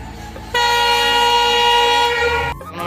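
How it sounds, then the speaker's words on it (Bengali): A train arriving at Sodepur railway station sounds a loud, sustained horn blast of about two seconds, over a low rumble of the approaching train and platform background. "ফাইনালি আমাদের ট্রেন চলে এসছে"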